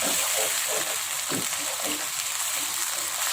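Milkfish in tauco sauce being stirred in a frying pan, a steady close sizzle with soft scraping and stirring movements throughout.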